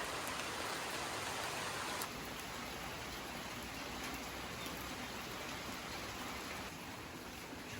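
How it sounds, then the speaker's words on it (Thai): Steady early-morning rain falls around a rural house, a loud, even hiss of drops on surfaces that continues unbroken without talk. "นี่นะครับพี่ๆฝนยังตกไม่ปล่อยอยู่เลยนะ"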